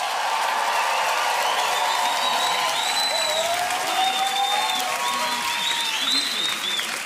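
A crowd at a Summer Dance Forever locking dance battle applauds and cheers in one continuous, dense roar that lasts the whole stretch, with whoops and shouts rising above the clapping.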